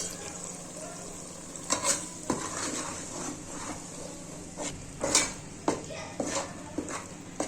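A utensil stirs ground masala into fish sambar in a pan, with repeated clinks and scrapes of metal against the pan over a soft sizzle, close and fairly quiet.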